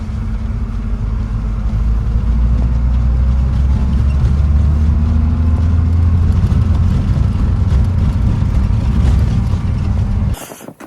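A Lada Niva grinds along a mountain road, its engine and drivetrain droning loud and steady with rattling mechanical noise throughout, cutting off abruptly at the end.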